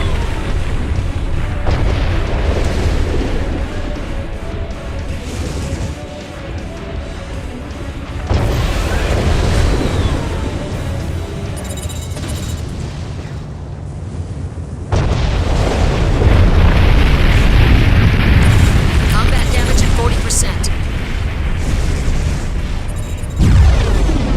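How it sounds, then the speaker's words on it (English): Cannons fire in the mech combat game Armored Core for Answer, with dense, loud booming explosions and bursts piling over a constant rumble, in several sustained waves across the clip. "Those cannons will rip you to shreds."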